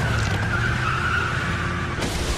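Tires skid loudly in The Walking Dead Season 1 game as a car pulls away, a steady close screech over engine noise lasting throughout with no talk.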